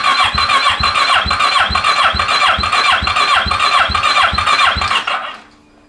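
A 600cc crosskart engine cranks on its first start, a loud, close, rhythmic churning with a squealing edge that repeats about a dozen times before cutting off abruptly into silence.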